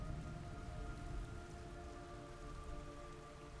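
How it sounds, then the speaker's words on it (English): Blood rain falling in the video game Metal Gear Solid Delta: Snake Eater, a dense, steady hiss of rainfall with faint sustained siren-like tones running beneath it, even and unbroken throughout, with no voices. "It's raining blood."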